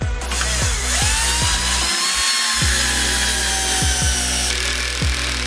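A Metabo PowerMaxx cordless drill drives a screw on first speed at maximum torque, a close, loud motor whine broken by repeated rhythmic clutch ratchet clicks and one brief stall.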